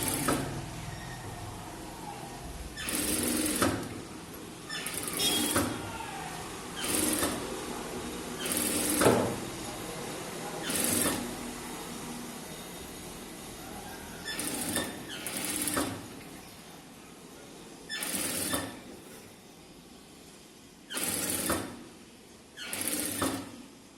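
Long, rough basting stitches on a blouse come from a sewing machine running in about a dozen short, irregular bursts of close mechanical whirring, separated by quiet gaps.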